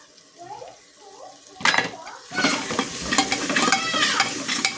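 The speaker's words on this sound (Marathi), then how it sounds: "आपल्याला हे मसाले तेलामध्ये छान परतून घ्यायचे" Spices and Kashmiri red chilli powder sautéing in hot oil for Mumbai-style pav bhaji, with steady sizzling and clattering spoon stirring against the pan. The sound starts quietly, then grows busier and louder about midway.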